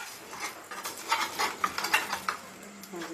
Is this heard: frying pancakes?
yes